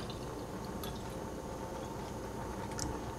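Milk pours steadily into a pot for hot chocolate, a continuous close liquid rush with a few faint drips and splashes, and no talk.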